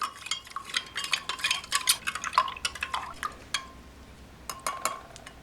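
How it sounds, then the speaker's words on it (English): A spoon stirs MRE drink mix into about eight ounces of water, with quick rapid clinks and scrapes against the container in busy bursts, close and fairly crisp, then a few sparser taps near the end. "We'll give that a stir."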